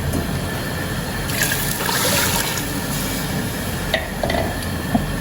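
Water is poured into a pot of beef pulao in a brief gushing splash, followed by lighter trickles and clinks against a steady background hiss.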